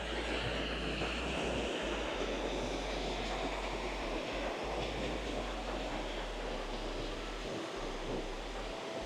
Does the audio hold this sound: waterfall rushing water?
yes